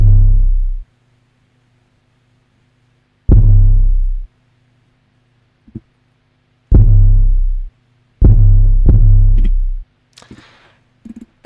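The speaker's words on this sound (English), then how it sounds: "Then we have the Pierre 808," A Pierre-style 808 bass sample booms in long, deep, sustained hits, five heavy notes in an uneven rhythm with gaps of silence, followed by a few soft taps, alone and loud.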